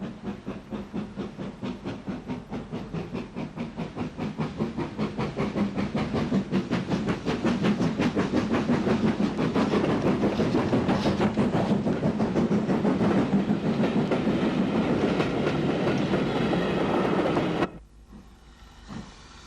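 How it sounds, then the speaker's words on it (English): A GNR WT Class steam tank locomotive hauling a southbound passenger train out of a station in Ulster rumbles and clatters steadily past at close range, growing louder, then cuts off abruptly near the end. "WT Class 264 tank number 57 takes a southbound passenger service out of the station."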